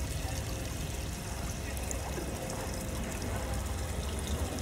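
Bare feet slip into water, giving a steady sloshing, trickling wash that runs close and continuous with no clear break.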